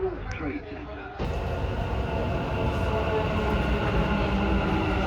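Dubai Metro train running at the station platform, a loud steady rumble and hum of the carriages that swells after a sharp jump early on, with people talking over it.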